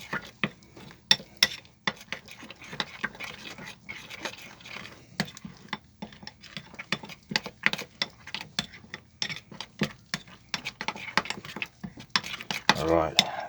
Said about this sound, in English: Now I'm going to give it a really, really good stir around. Give it a good mix up.